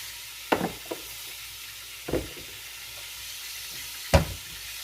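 Deer neck meat seasoned with adobo and Old Bay sears in a pan, giving a soft steady sizzle with a few sharper bursts of spitting and crackle, close and fairly quiet with no talking.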